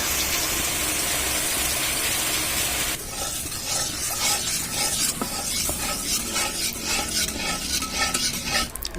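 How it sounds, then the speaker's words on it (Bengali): Milk poured into a pan of grated carrots cooking down for carrot halwa, a steady close sizzle and bubbling that turns busier and more textured partway through, with scraping and stirring clatter. "আমরা এখন দিয়ে দিব দুধ, দিয়ে দিচ্ছি দুধ"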